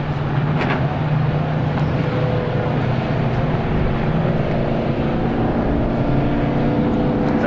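Race cars roar into turn one during a strictly stock heat race, a loud continuous engine drone with layered motor tones holding steady and close, with no talk over it.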